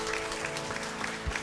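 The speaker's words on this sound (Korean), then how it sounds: "우리 하나님께 영광을 박수하겠습니다" Congregation applauding during a church service, a short burst of dense, even clapping over a sustained musical tone.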